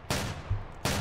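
Gunfire in a Fortnite-style Roblox game, two short bursts of rapid shots spaced apart, moderately loud and close with no talk over them.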